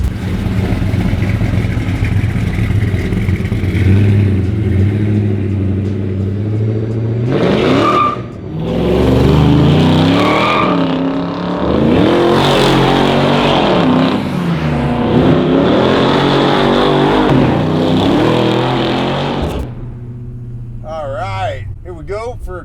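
A 650 hp 1985 Chevy S10 sleeper truck with its V8 revving hard and tires spinning, loud rising and falling engine roar with bursts of acceleration, mixed with people talking over it.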